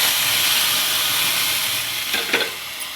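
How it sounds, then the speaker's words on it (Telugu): Curry leaves frying in hot oil for a tempering, after onion pieces, while making spinach dal: a steady close sizzle throughout, with a couple of brief sharper crackles near the end and no voices. "పోపుని కూడా బాగా వేపుకుందాం. కరివేపాకు వేసుకున్నాం."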